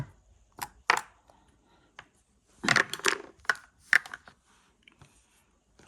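Precision dice rattling and clattering across a solid burled wood backgammon board, sharp close clicks in a few separate bursts of tumbling rolls, with quiet gaps between throws.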